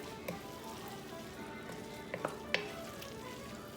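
Lamb stirred back into a pot on a stove at medium-low heat for Irish pub shepherd's pie, giving a steady quiet sizzle with a few soft spoon clinks near the end and no talking.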